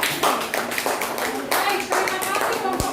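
A classroom of students claps together in a sustained burst of many hands, loud and close, with a few voices mixed in during the applause.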